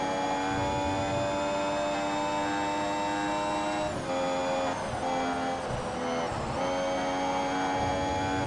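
F1 Mobile Racing video game car engine at the Brazil circuit, a loud steady high-revving whine with strong harmonic tones, dipping briefly a few times as it shifts or brakes, continuous throughout with no talk.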